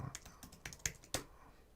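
Keys clicking on a computer keyboard while someone codes in Node.js at work: a handful of crisp, uneven keystrokes close by, with a couple of sharper taps standing out and no talking.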